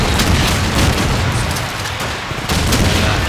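Grenades going off in a competitive first-person shooter match: loud, sustained booming blasts and gunfire-like crackle fill the whole stretch, with a brief dip before another burst.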